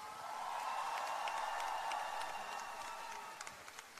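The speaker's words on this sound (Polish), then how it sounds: "Teraz wielkie brawa dla nich" Crowd at a charity concert in the Torwar hall applauds, heard faint and distant as a steady wash of clapping that fades toward the end.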